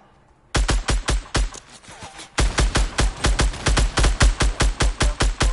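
Rapid bursts of gunfire crack loudly in the Fortnite video game, a long run of evenly spaced sharp shots after a brief quiet start, with no talking.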